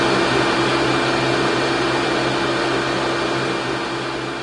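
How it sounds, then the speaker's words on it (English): A recorded vacuum cleaner runs steadily, its motor whine and rushing airflow forming a loud, dense, continuous roar with a few steady hum tones, tapering slightly toward the end with no voices. "So this is a vacuum cleaner, you know, the one that you're cleaning your carpet and your floors."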